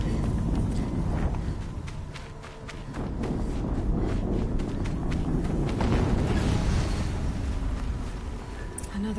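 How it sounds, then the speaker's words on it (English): An explosion rumbles through the video game Horizon Zero Dawn, a broad, booming blast amid dense in-game noise and rumbling debris, with no clear talk over it. "Another explosion."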